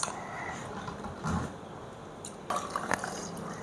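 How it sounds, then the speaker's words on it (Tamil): Water poured generously into homemade lemonade mixed with lemon juice, salt, sugar and chia seeds, heard as soft splashing and dripping bursts at close range, with a louder pour near the end. "உங்களுக்கு ஏது தண்ணி வேணாலும் சேர்த்துக்கலாம், நான் நிறைய சேர்க்குறேன்."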